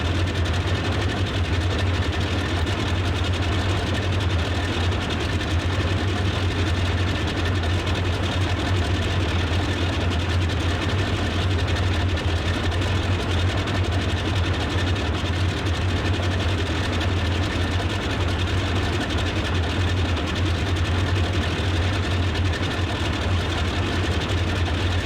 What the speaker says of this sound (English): It's a noisy airplane.